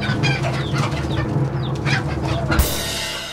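Guineafowl calling in a busy run of harsh, chattering squawks, close and loud, ending with a sharp thump and a quieter tail.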